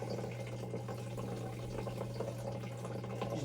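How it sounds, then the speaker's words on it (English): Aquarium water steadily flows through a siphon hose during a water change, a continuous close, gurgling wash of liquid with no speech. "Let this thing continue to siphon all the water."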